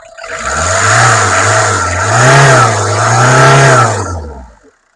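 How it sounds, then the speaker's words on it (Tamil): A used car's engine revving steadily at a low-budget used car dealer in Vellore, rising and falling in pitch over about four seconds, loud and close, with no talking over it. "வண்டி இன்ஜின் தரமாக இருக்குங்க."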